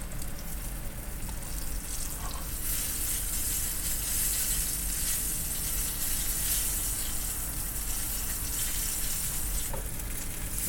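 Salmon sizzles in hot oil in a pan, a steady, dense, close-up frying hiss that continues without pause for the whole stretch, with no voices.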